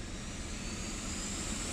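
A 2020 Proton X50's air conditioner runs at maximum, giving a steady, loud, broadband roar like a jet engine, unbroken throughout.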